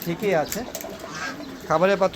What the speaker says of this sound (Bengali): এখানে চীনা হাঁসগুলো খাবার খাচ্ছে